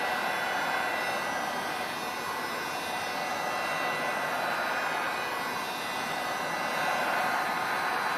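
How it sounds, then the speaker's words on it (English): A hot air blower runs on high fan at medium heat, warming a piece of cured resin art; a steady, loud, continuous broadband whoosh of blowing air persists unbroken throughout with no speech. "I have it on high fan and medium heat because I don't want to burn"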